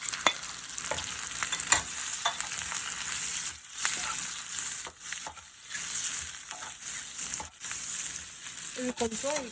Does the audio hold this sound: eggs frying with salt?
yes